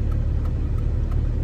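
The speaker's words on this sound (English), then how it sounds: "The grinding y'all hear, by the way, is something wrong with my axles" A car with faulty axles or worn brake pads on the road: a low, continuous engine and road rumble with a faint, regularly repeating grinding tick pulsing several times under it.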